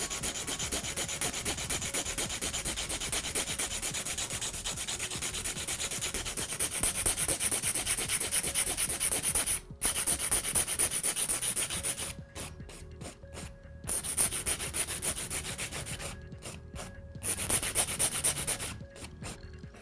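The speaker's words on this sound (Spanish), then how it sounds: "la lima la voy a colocar a 45 grados para que quede perfectamente marcado nuestro resaque" A hand file worked at 45 degrees across an artificial nail tip, giving steady, close, fine gritty rasping for nearly twenty seconds, with a few brief pauses near the end.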